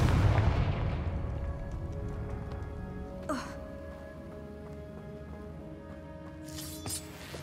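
The Confringo blasting spell in the game Hogwarts Legacy bursts in a deep, booming explosion that fades into a long rumbling tail, followed by a couple of quieter crackling spell effects.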